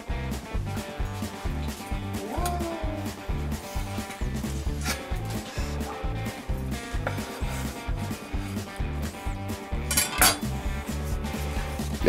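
Cutlery scrapes and saws steadily through a grilled Black Angus T-bone steak on a plate, with repeated close knife strokes, wooden board knocks and occasional metallic clinks over several seconds, without talk.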